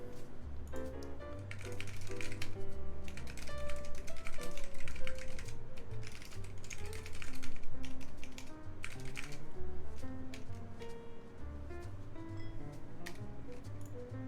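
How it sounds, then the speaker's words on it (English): Rapid, continuous clacking from a loud custom LZ CLS mechanical keyboard fitted with lubed Naevies switches, keystrokes tumbling in irregular bursts over a faint musical background. "the whole keyboard's loud anyway"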